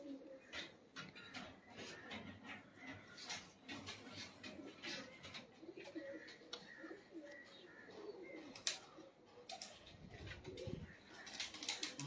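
Pigeons cooing faintly and intermittently, mixed with scattered chirps and rustling in a quiet setting, with occasional muffled thumps.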